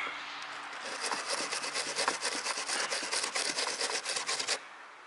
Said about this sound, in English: I'm going to take this little wire brush, I'm going to scuff this up a little bit here